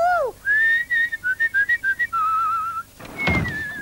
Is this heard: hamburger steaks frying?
no